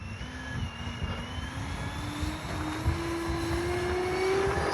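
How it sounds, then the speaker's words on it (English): A Dynam ME 262 radio-controlled model jet with takeoff flaps set roars down the runway and lifts off, its steady, loud whine rising in pitch and building as it climbs away, with no voices over it. "we'll do takeoff flaps and see if she gets up in the air a little bit fast"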